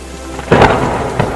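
A thunderstorm with rain in a Hindi cartoon: a sudden loud thunderclap breaks over steady rainfall, followed by a softer rumble a moment later, with no voices.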